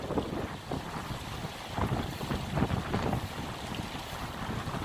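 Gusty wind buffets the microphone on a lake during a fly fishing outing, a steady broadband roar with stronger surges swelling and fading throughout, close and fairly loud, with no voices.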